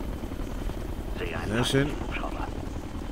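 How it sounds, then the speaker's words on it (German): An enemy helicopter in the shooter Ghost Recon Future Soldier thrums as a steady rotor rumble under battle noise, while someone speaks briefly over it. "Ein feindlicher Hubschrauber"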